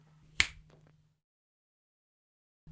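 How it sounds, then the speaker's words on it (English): A single crisp finger snap rings out close and alone, followed by a faint low hum that fades within a second, then near silence. "maybe like the famous finger snap from Thanos"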